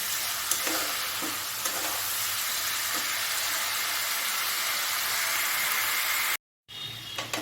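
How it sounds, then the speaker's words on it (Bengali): Spices frying with pointed gourd and potato in a pan, a steady close sizzle with occasional stirring scrapes, briefly cutting out near the end before resuming. "খুব ভালো মতো মশলাটাকে কষিয়ে নেবো পটল আর আলুর সঙ্গে।"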